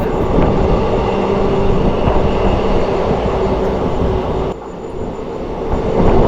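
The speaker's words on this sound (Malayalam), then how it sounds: "ട്രെയിൻ അത്യാവശ്യം നല്ല സ്പീഡിലോട്ട് പോകുന്നു" A train rumbles along at speed past fog-covered hills, a loud steady roar of wheels and carriage noise heard from inside, dipping briefly near the end.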